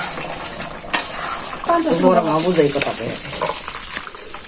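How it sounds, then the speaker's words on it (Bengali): Ground cumin paste goes into a curry cooking in a pan, with a soft sizzle and scraping stir against the metal, a brief clatter of utensils, and a voice talking over part of it. "এই বাটা জিরা দিতেছে তরকারির মধ্যে"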